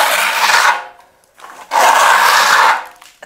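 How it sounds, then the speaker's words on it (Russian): A trowel smooths white fiberglass-reinforced plaster (Teplon Venus white gold) over a wall being prepared for wallpaper: two long, loud scraping strokes separated by a brief pause, close up and without speech. "Заглаживаем то, что было у нас, рубцы какие были здесь."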